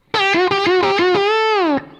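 A single electric slide guitar lick, played in standard tuning, distorted and singing, with quick repeated slides before one long gliding note that bends and fades.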